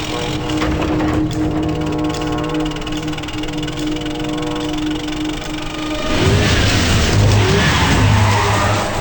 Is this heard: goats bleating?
no